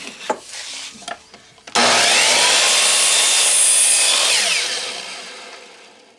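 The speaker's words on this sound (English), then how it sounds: "Let's cut a bunch of planks." Saw cutting through wooden planks set against a stop block: a few faint knocks and shuffles, then one loud, steady cut of about three seconds that fades as the blade spins down.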